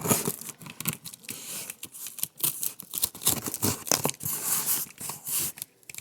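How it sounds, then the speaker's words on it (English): A blade cutting open a cardboard package holding crank bearings, close scraping, slicing and tearing strokes in quick irregular bursts with crinkling packing material, no talk. "Let's cut this thing up and see what we got going on"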